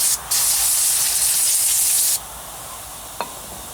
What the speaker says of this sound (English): First thing I like to do, just get some brake cleaner.